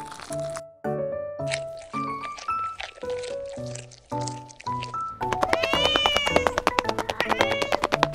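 Several short cat meows in a row, followed by a louder, drawn-out meow with a wavering, pulsing edge.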